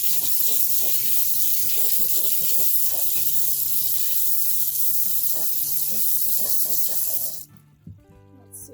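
Tumbled red tiger's eye rocks are rinsed under a steady, loud rush of running water with scattered clinks and rattles, before the flow cuts off abruptly near the end, leaving a few quiet knocks.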